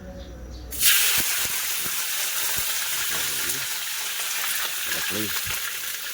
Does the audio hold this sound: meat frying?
yes